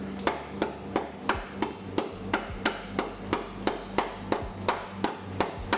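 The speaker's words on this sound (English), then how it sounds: "Let's see how it reacts to a bit of a smash with the hammer." A hammer smashes repeatedly on a welded metal piece: about fourteen sharp, evenly spaced blows land at a steady rhythm, close and fairly loud, each ringing briefly before the next.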